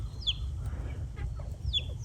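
Hens and a Brahma rooster clucking softly nearby, a few short chirpy vocalizations spaced through the moment over a low steady background hum, no talking.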